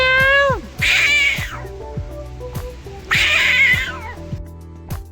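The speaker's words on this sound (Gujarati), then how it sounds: "અહીં બેઠો એ બેઠો બિલાડો." A tomcat meowing nearby: a short, falling meow followed by two long, drawn-out wavering yowls, over a background of steady rhythmic clicking.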